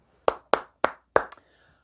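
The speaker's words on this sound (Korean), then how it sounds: "우리 하나님께 영광을 박수 드릴까요?" A church congregation claps together during a worship service, four sharp, evenly spaced hand claps close by, then one softer trailing clap before quiet.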